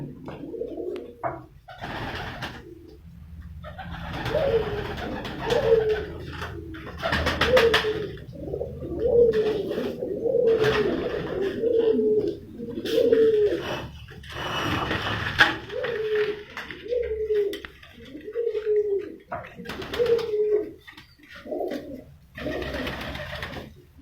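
Breeder pairs of Sharmila and Teddy pigeons coo on a rooftop, a series of close, repeated throaty coos in steady phrases, with faint rustles between them.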